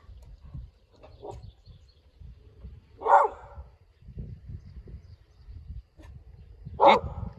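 A farm dog barks at cows outdoors. Two sharp, loud barks come several seconds apart over quiet rustling and faint low background noise.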